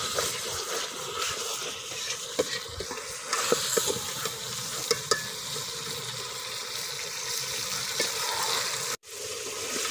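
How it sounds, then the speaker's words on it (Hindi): Fenugreek, ground coriander and garam masala fry in a pot with a steady close sizzle and hiss, broken by scraping stirs and clinks of a spoon, with no talk. "अब अच्छी तरह इसको फ्राई करेंगे।"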